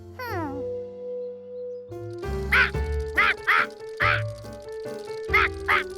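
Repeated cartoon duck quacks in quick bursts from a fairground shooting game, loud and close, following a descending musical jingle, with an electronic, game-like tone throughout.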